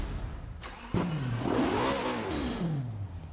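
A Koenigsegg hypercar in the video game Forza Horizon 4 revs its engine, pitch sweeping up and back down in one smooth close rev after a short starting burst, with no voices.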